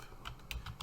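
Quick typing on a computer keyboard: a short run of four or five close, crisp key clicks with no talk.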